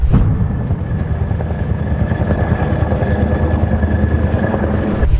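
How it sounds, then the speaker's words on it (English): Indian Air Force military helicopters lift off from bases in Leh, their rotors and turbines making a loud steady throbbing roar close by, with a sharp thump near the start and end. "Indian Air Force helicopters lift off from their bases in Leh and Toys"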